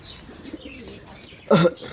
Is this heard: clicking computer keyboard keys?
no